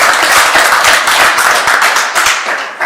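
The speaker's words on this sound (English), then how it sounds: "a round of applause for the new unified World" A press-room audience claps for a new unified world champion at a boxing press conference, with loud, close, distinct hand claps in a brisk rhythm that thin out and fade toward the end.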